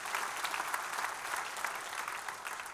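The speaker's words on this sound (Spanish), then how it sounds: "Demos un aplauso a Jesucristo" A church congregation claps together in sustained, even applause, a dense wash of many hands that holds steady from start to finish with no voices rising above it.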